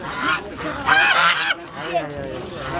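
Geese at a bird market in Turkestan honk loudly and close by in a few overlapping calls, with faint background chatter.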